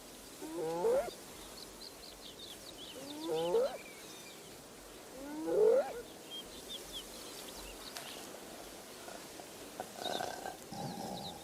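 Lionesses and hyenas feed at a carcass outdoors, with three distinct growling calls from the animals spaced a few seconds apart over rustling ambient noise, the third loudest, followed by fainter scattered sounds and distant bird chirps.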